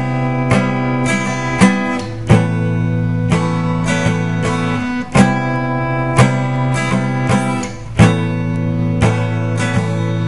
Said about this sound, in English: Now our strum here is going to sound something like this.